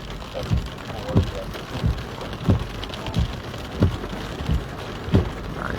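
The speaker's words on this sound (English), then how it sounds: "All right, starting to get into a little bit of that rain." Steady rain falls during a thunderstorm, a loud continuous hiss with regular thumping pulses, likely wipers or drops striking a vehicle, heard close and without speech.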